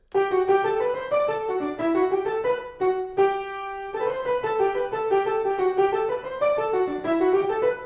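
A Bach canon for four voices plays, its bass line joined by added melodic music in clear, steady tones, with a brief held chord near the middle before the moving lines resume.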